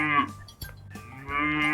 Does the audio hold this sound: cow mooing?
yes